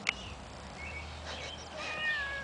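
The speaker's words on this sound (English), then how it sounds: "There's the cat." A cat in a backyard lets out a few short meows, quiet and somewhat distant, over faint outdoor background noise.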